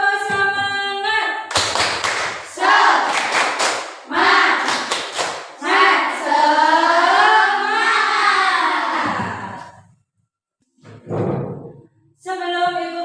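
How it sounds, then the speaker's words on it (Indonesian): Schoolchildren in a classroom perform a rhythmic spirit clap, quick bursts of clapping mixed with loud chanted voices, followed by a short pause and more voice. "Ayo kita tepuk semangat dulu."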